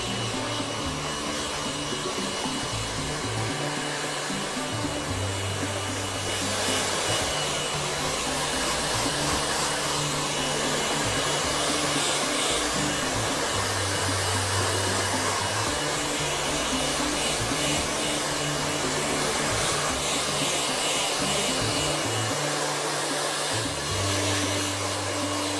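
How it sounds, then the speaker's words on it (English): A hair dryer blows with a constant loud roar for the whole stretch, its pitch wavering slightly as it moves, with no talking. "you really want to sort of rough it up with your dryer as well"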